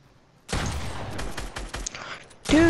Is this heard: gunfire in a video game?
yes